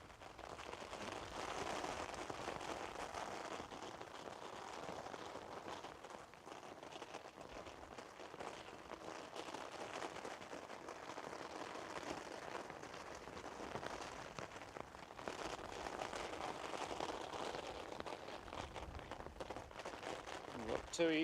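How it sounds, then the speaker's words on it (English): Steady, dense hiss of heavy rain pouring down continuously at Manchester Airport, a broad wash of noise with no pauses. "This downpour will be gone very, very shortly."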